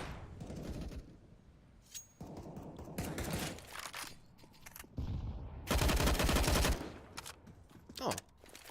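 Gunfire from Counter-Strike: Global Offensive during a professional match on the Nuke map, including a wall-penetrating shot: several bursts of rapid automatic fire and single loud cracks, with the heaviest volley near the end and commentary talk between shots.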